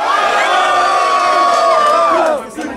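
A loud crowd at a freestyle rap battle shouts and cheers in one sustained roar, then drops away sharply near the end.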